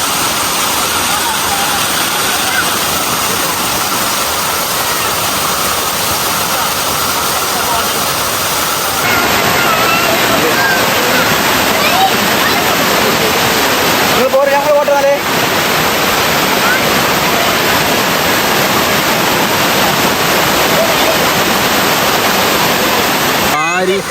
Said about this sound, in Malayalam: വെള്ളച്ചാട്ടം നല്ല വൈബുള്ള സ്ഥലമാണ്